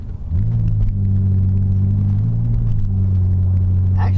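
A BMW E60 5 Series driving along gives a loud, steady low engine drone from inside the cabin, with a slight pitch shift partway through and no talking.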